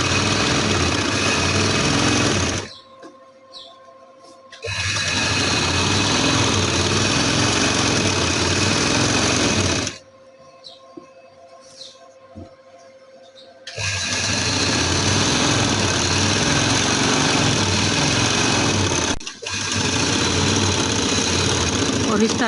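An electric sewing machine stitches a trouser bottom hem in loud, steady runs that stop twice for short pauses, someone speaking during the gaps.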